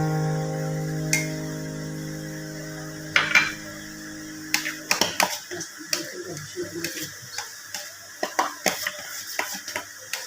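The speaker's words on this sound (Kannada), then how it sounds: "ಈ ರುಬ್ಬಿರುವಂತ ಅದಕ್ಕೆ ಕಾಯಿ ತುರಿಯನ್ನು ಹಾಕಿ ಮಿಕ್ಸ್ ಮಾಡಬೇಕು" Grated coconut mixed into a ground paste in a dish, first under a steady tonal hum, then a run of crisp, irregular clinks and taps of a utensil against the plate, close and fairly loud.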